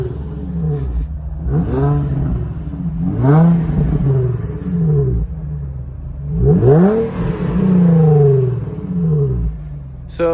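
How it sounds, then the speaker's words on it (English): An Infiniti G35 with a VQ engine and stock exhaust is revved repeatedly, several rising and falling blips in a loud, close, smooth tone over a steady idle. "You got a VQ under the hood. He's gonna go ahead and rev it with the stock exhaust."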